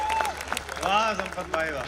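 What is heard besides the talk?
audience applause at a poetry gathering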